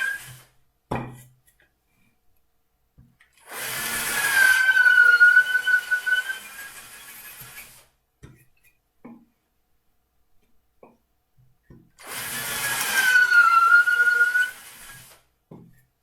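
Power drill with a 5.5mm bit boring dowel holes about 1.5 cm deep into wood for a levitating wall clock, two separate whining bursts of roughly four seconds each with quiet gaps and faint clicks between.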